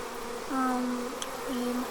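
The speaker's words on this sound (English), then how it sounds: "We might have a chance of all of the honeybees coming in." A honeybee swarm buzzes around a hive, with a close, steady drone and shifting pitch as individual bees pass nearby.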